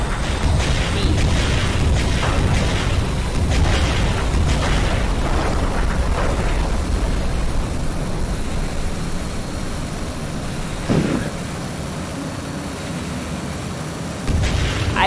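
An aircraft in Garry's Mod roars loudly during takeoff, with heavy rumbling and repeated booms and bangs as it crashes, and a sharp impact near the end.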